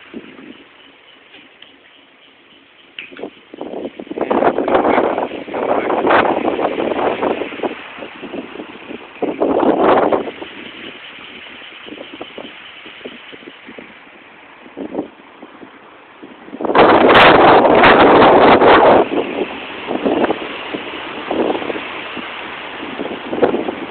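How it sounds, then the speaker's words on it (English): Gusty wind buffeting a microphone outdoors near a 90-volt DC wind generator, with rough, roaring surges that swell and fade, strongest in a loud burst late on, and no one speaking. "Now the wind's dying out."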